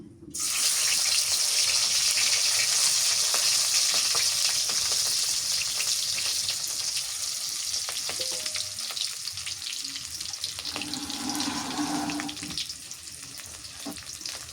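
Green chillies hit hot oil with a loud, steady sizzle that keeps hissing while pumpkin greens fry, with faint stirring scrapes near the end.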